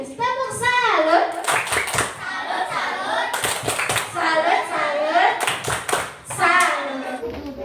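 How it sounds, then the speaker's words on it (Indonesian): A school class does a rhythmic salute clap as a group, with sharp patterned bursts of hand claps. Children's and an adult's voices chant and talk between and over the claps. "Tepuk salut untuk kelompok religius."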